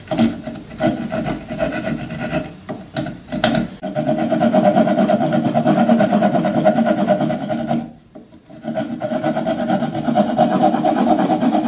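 Coarse-grit sandpaper rubbing along the edge of a wooden drawer front in a woodworking shop, a loud steady rasping scrape with a few short strokes early on, then long continuous sanding broken by a brief pause.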